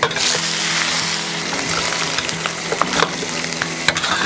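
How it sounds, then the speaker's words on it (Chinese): Pork bones stir-frying in hot lard in a wok, a dense continuous sizzle with crackles and scraping stirs close up, no talking. "锅里面放点猪油，下骨头稍微煸炒一下，"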